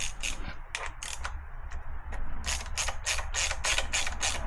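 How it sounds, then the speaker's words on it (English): A ratchet with a 10mm socket backs out coil pack screws on a 1.9L Yamaha Waverunner, with bursts of rapid clicking that grow into a steady, close run of ratcheting strokes. "we're going to take our 10mm and we're going to take out all the screws for the coil packs"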